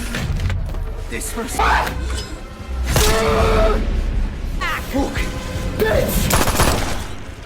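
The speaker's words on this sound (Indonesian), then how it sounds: "Lalu suara tembakan yang dilesatkan ke si Danny terdengar ke telinganya si Sen" Several sharp bursts of gunfire in a film crack out in quick succession, loud and close, with voices talking between the shots.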